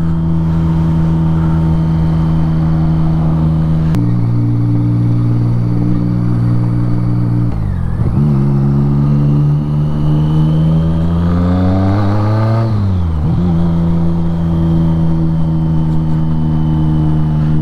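A BMW K75 motorcycle engine fires up and settles into a steady, loud, close idle, with a couple of throttle blips that rise and fall in pitch before returning to an even hum.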